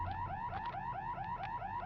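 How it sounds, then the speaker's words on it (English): A car alarm inside the Warhammer 40,000: Fire Warrior video game wails in a steady repeating up-sweeping electronic siren pattern, loud and continuous with no voices. "Somebody really needs to shut off that alarm."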